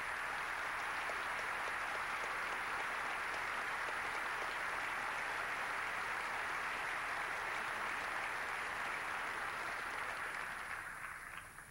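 An audience applauds a forum panel on international affairs, a dense, steady wash of clapping that fills the room for nearly twelve seconds before starting to thin out at the very end.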